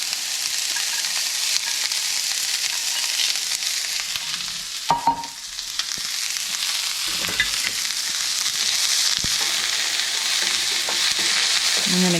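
Onion frying in olive oil in a skillet for moussaka, a loud, steady, crackling sizzle heard up close throughout, briefly interrupted by a few clinks and stirring scrapes partway through, with no talking.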